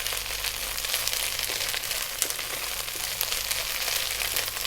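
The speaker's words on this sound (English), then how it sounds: "giving it a nice fry with the garlic and onions" Garlic, onions and oregano fry in a pan with a steady, close sizzle and a few faint stirring clicks. No one speaks.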